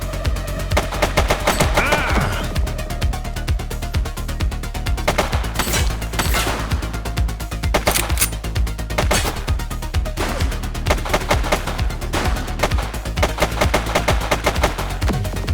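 Relentless automatic gunfire from a police shootout in the video game The Precinct, with loud rapid bursts overlapping into a continuous crackling barrage.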